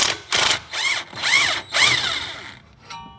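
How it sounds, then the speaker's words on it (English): Power tool unbolting a sway bar end link on a Subaru BRZ / Scion FR-S / Toyota GT86, four loud close whirring bursts with brief pauses between them. "So we'll go ahead and unbolt this."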